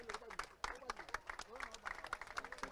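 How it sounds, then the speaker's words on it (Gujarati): Scattered, thin applause from an audience at a youth forum premier league event, fairly faint and uneven, with a voice speaking over the clapping. "તાળીઓથી વધાવી લેશો પ્લીઝ."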